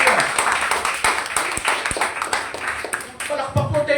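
A church congregation at a Sunday worship service claps in rhythmic bursts, loud and close, with a voice speaking over the clapping.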